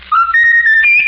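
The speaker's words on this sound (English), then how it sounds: "Raffles, whistle your favorite tune" A pet bird whistles a short rising tune, clear and close: a sustained note that steps upward in pitch across about a second, heard alone.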